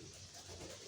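A racing pigeon gives a faint, soft coo, heard briefly and quietly in the background.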